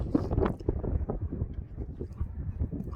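Strong wind gusts on a White Mountains ridge near Mount Lafayette, buffeting the microphone with a steady low roar that rises and falls in gusts throughout, no voices.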